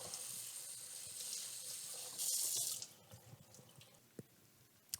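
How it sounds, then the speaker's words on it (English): Chopped broccoli rabe is rinsed in a strainer under a running kitchen tap, with faint, steady water flow that swells into a brief louder gush before settling back to quiet trickles and drips. "we want to wash these nicely"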